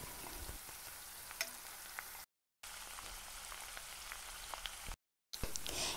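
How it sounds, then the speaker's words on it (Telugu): Chopped onion with ginger garlic paste fries quietly in a pan, a faint, steady crackling sizzle broken by two brief silent gaps, with no voices. "ఆనియన్ కొంచెం కుక్ అయిన తర్వాత జింజర్ గార్లిక్ పేస్ట్ వేసుకొని దాన్ని కూడా కొంచెం కుక్ చేసుకోవాలి"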